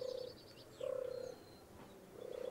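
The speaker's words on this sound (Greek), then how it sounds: "Είναι απέναντι κάτι περιστέρια" Pigeons across the way give low, hollow coos in a slow repeating rhythm, with two clear phrases and a third beginning, soft and nearby in a quiet setting.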